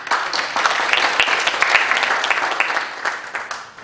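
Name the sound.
audience applause for introduced guests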